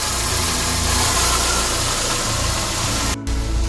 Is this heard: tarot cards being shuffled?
no